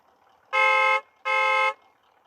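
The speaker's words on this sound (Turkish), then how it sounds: "korna gelmiş. Şöyle biraz sesini açıp dinleteceğim size" A vehicle horn in a video game honks twice, two loud steady blasts of about half a second each, separated by a short pause, over near silence.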